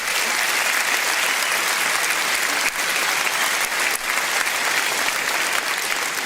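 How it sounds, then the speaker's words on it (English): Sustained audience applause for local candidates at a Reform UK local election campaign event in Norfolk, a dense, steady clapping crowd that stays loud and even throughout with no pauses. "Round of applause for your local candidates"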